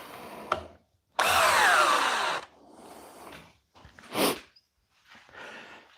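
A Milwaukee M12 drill on speed 2 in drill mode drives into a pilot hole, giving a loud whirring burst of just over a second, then shorter strained bursts and a brief high whine, close by.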